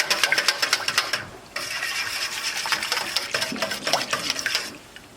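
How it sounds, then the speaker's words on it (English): Spoon stirring vanilla essence into ponche de creme in a pot, giving a rapid scraping, clinking rhythm near and fairly loud, pausing briefly before resuming, with no talking. "I'm going to put in 2 teaspoons of vanilla essence, 2 teaspoons of vanilla essence, and I'm going to stir that"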